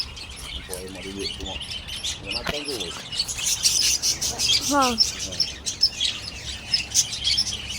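A flock of lovebirds chirps continuously with dense high tweeting, a few sharp sweeping calls standing out near the middle, heard close over a low background rumble.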